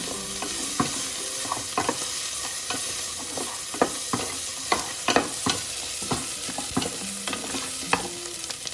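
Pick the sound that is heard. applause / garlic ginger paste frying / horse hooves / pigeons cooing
garlic ginger paste frying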